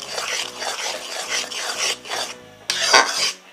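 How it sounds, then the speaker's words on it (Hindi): A spoon scraping and stirring a thick jaggery and roselle (kudrum) chutney in a pan, with repeated rhythmic rasping strokes, close and fairly loud, and a brief pause before the stirring resumes. "अब बीच बीच में इसे हमें चलाते रहना है, नहीं तो ये चिपक जाएगा।"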